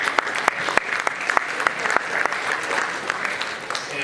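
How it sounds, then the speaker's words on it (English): Banquet audience applauding in a casino function room at a winter sports dinner, a brisk crowd of claps with individual sharp hand strikes standing out over the steady wash. "Give them a round of applause."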